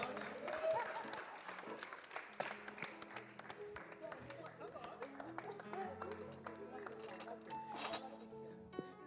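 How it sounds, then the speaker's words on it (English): Wedding guests clap for the groom at a ceremony, with sustained scattered applause and clinks over a busy, mid-distance crowd throughout. "Please give him a round of applause."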